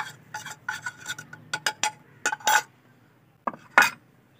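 Spices such as garam masala, red chilli and turmeric being mixed into chicken legs in a bowl by hand, a series of close, irregular clinks and soft scrapes against the bowl with brief pauses, no talking.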